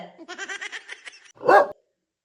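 A person imitates a dog barking during a street dog bite prank: a quick run of yappy, choppy barks, then one loud, harsh bark burst, close and unaccompanied.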